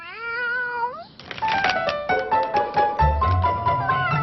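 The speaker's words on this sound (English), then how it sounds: "That cat again?" A cat meows several times indoors, rising plaintive calls up close, then harmonic cries continue over a low rumbling thump and household clatter.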